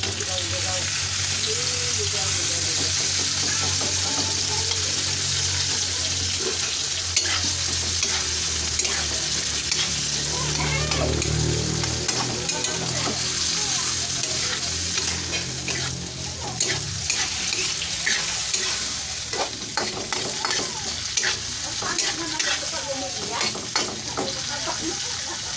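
Tomatoes fry in a pan with a steady loud hiss and sizzle, punctuated by repeated scraping stirs of a spoon, heard close; a voice speaks briefly near the start.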